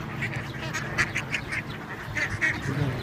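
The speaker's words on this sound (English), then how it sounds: "there's so many ducks here" Many ducks quacking in a busy, overlapping chorus, nearby and fairly loud, with rustling background noise.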